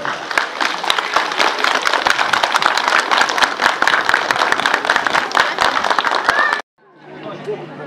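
Sustained, dense applause from a crowd standing to honour guests on stage at a prize-giving ceremony for school medal-winning athletes, loud and steady for several seconds before cutting off abruptly, followed by faint background noise.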